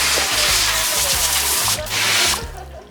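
Water runs and splashes steadily over bare, uncoated car paint, a continuous loud wash with a brief drop in the middle before the flow eases toward the end.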